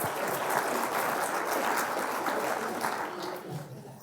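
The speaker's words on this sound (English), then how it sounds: "I think another round of applause." A university audience at a growth-mindset talk gives a dense, even round of applause, a continuous wash of many hands that is moderately distant and fades slightly toward the end.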